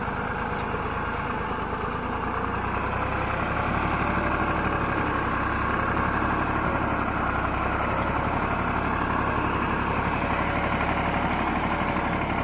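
A Greaves 35 HP tractor engine idles steadily and loudly nearby, a continuous low diesel rumble with vibration holding an even level throughout, no voices over it.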